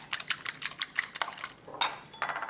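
Eggs with salt and black pepper beaten in a bowl, a fast run of clicking, tapping whisk strokes against the container, close and fairly quiet, with no talk.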